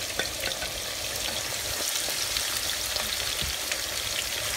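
Onions sizzle steadily in hot oil over high heat while cooking aloo ki sabzi, a continuous close crackle with scattered pops and no voices.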